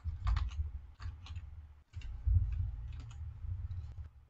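Computer keyboard typing out code for an Angular 16 app, a steady run of soft key clicks in short bursts with brief pauses, fairly close and quiet.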